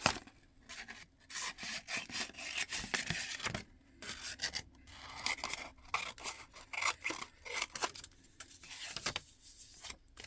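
Scissors cut out paper backing for a papercraft mask, with close, steady, rhythmic snipping and rustling strokes repeating for about ten seconds, paper crinkling between cuts, and no talking.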